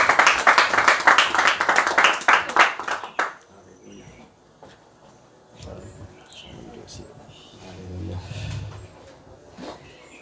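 A church congregation claps together in a dense burst of applause that stops abruptly after a few seconds, leaving quieter room noise and faint voices.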